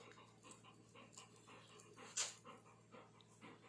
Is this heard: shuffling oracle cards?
no